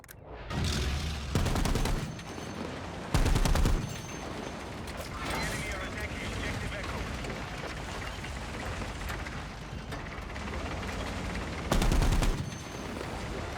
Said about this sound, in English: This is an AA gun.